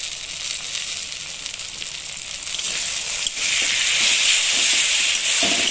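Ground turmeric, cumin and chili powder sizzle in a hot pan with a bright, hissing crackle. It swells louder and steadier partway through, with no talking.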